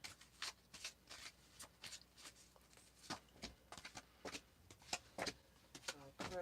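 A deck of tarot cards being shuffled by hand during a live reading, heard up close as a steady run of crisp riffling bursts and card slaps, with no talking over it.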